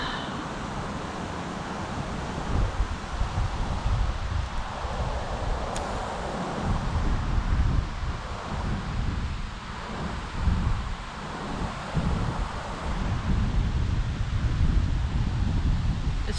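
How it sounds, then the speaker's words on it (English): Strong wind blowing outdoors ahead of a weather front, a loud continuous rushing roar with gusts buffeting the microphone, steady throughout with no voices. "This wind is serious, it's not kidding."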